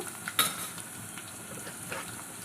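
Onions frying in a pan for an egg and brinjal curry, a soft steady sizzle with a brief clink of a utensil stirring near the start and another faint scrape later.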